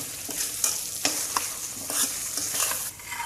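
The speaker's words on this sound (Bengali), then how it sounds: "গুঁড়ো করে নিয়ে আসে মশলা অর্ধেকটা পরিমাণ দিয়ে দিলাম আর অর্ধেকটা আমি যখন আচারটা হয়ে যাবে তখন দিয়ে দেবো এভাবে নেড়ে চেড়ে ভালোভাবে মিশিয়ে নেব" Ground spices are stirred into a bilombo pickle cooking in mustard oil, a spoon scraping repeatedly through the mixture over a continuous close sizzle.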